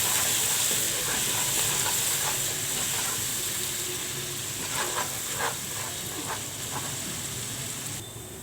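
Garlic fries in a pan and is stirred, giving a steady close sizzle with scattered scraping taps of the spoon, fading slightly toward the end.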